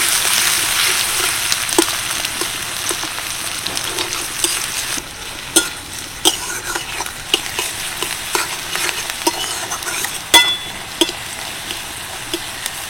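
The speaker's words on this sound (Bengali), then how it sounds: "ভালো করে ভেজে নেবো পেঁয়াজটা।" Chopped onion frying in hot oil with a dried red chili, white cumin seeds and a pinch of asafoetida, a constant crackling sizzle punctuated by irregular scrapes and taps of a spoon stirring the pan, no talking.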